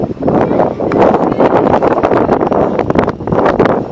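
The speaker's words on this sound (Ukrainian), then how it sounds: "Вітер такий, тут сквозняк." Strong wind buffets the microphone throughout along a café-lined alley in Dnipro, a loud continuous low roar with gusty surges and no voices.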